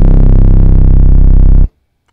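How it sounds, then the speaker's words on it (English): ESM synth bass in Logic with long decay and added overdrive holds one loud, gritty, buzzing low drone for about a second and a half, then cuts off abruptly into silence. "I'm going to use a very simple bass, the ESM. And in the ESM, I'm going to turn its decay all the way up."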